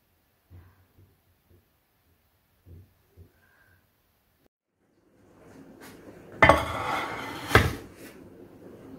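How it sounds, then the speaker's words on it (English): A baking pan of strawberry pie bars goes into a preheated oven: a few soft knocks, then a rising shuffle and two loud, close metallic clatters from the pan and oven door. "I'm just gonna put it in the oven, preheated oven"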